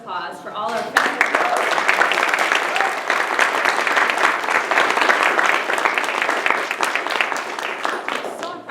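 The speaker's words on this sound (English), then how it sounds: "Let's have a big round of applause for all our faculty." A school audience applauds its faculty at a poetry recitation event, a dense, steady wash of clapping that swells in after a brief spoken line at the start and holds loud for several seconds.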